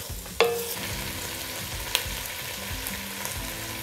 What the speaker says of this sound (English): smells like a pound of frying sausage